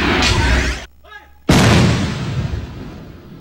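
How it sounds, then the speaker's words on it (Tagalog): Armed Forces of the Philippines artillery units firing cannons from fire bases in Sulu: a loud, booming report, a brief near-silent gap, then a second heavy blast that rolls off into a long rumbling decay. "Kagabi, halos magkakasabay na nagpaputok ng kanyon ang mga artillery unit mula sa ilang fire base sa Sulu."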